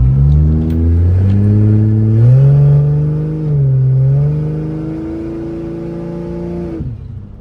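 Subaru BRZ with a swapped 2JZ engine moving under its own power, its close, loud engine note droning and rising in pitch in steps, then cutting off near the end.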